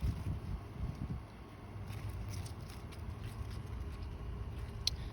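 Wind gusts through a summer vegetable garden with pepper plants, a steady low rushing roar with buffeting on the microphone, loud and continuous throughout, no voices.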